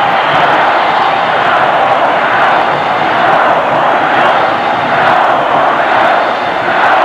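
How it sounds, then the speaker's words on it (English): A packed stadium crowd at the 1982 Cotton Bowl Classic college football game between Alabama and Texas sends up a loud, unbroken roar that holds steady throughout. "This crowd is really alive at the Cotton Bowl."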